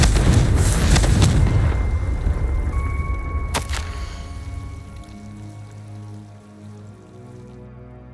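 A Confringo blasting spell explodes in Hogwarts Legacy. A loud, broad boom hits near the start and rolls into a long, fading rumble, with a couple of sharp cracks in the middle before the tail dies away.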